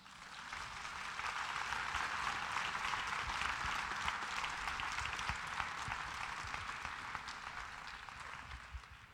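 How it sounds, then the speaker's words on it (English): An audience applauds a corporate culture speaker after his talk, sustained broad clapping from a sizable crowd that swells early and holds steady throughout, with no voices over it. "Let's give Michael another round of applause."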